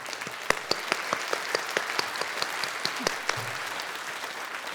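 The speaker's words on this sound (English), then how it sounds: "Can we give them a round of applause?" Steady applause from a crowd at a graduation commencement ceremony, many hands clapping evenly throughout at a moderate distance.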